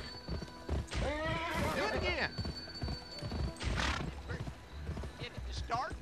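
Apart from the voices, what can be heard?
horse galloping and neighing when spurred in video game Gun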